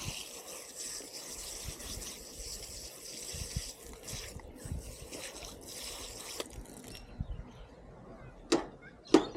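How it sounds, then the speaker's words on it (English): Water from a hose runs and trickles over a freshly cleaned fish fillet, a steady splashing wash with a few sharper knocks and splashes near the end. "Give it a bit of a hose off."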